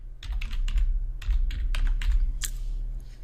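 Fast, light clicking of computer keys typing a short word, steady and close with brief pauses, over a low background hum.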